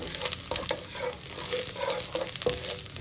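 Garlic sautéing in oil for sinigang sa miso, a bright continuous crackling sizzle with a few scrapes and taps of a utensil against the pan, close and moderately loud, no speech.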